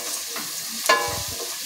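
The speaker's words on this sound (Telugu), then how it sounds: "కొంచెం కరివేపాకు వేసుకోవాలి. ఇలా తిప్పుకుంటూ ఉండాలండి." Curry leaves sizzle in hot oil in a pan while a spoon stirs them for tamarind curry, a soft continuous fry with one sharp scraping clink and a few low knocks.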